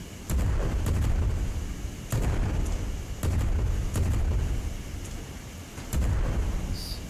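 Cannon shots boom in the video game Worlds Adrift, four or five heavy, rumbling blasts spaced about a second apart, each with a low decaying tail.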